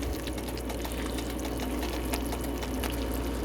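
Beef dumplings simmering in a pot of broth are stirred, giving a continuous watery churn and bubbling close by, with faint sloshing throughout and no talking.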